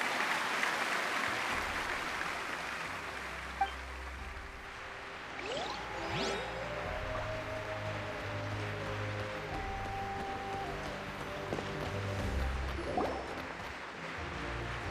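A crowd applauds a hero at a festival parade in a Genshin Impact cutscene, a steady wash of clapping held under light whooshes and faint music tones for the whole stretch.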